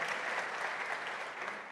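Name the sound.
conference audience applause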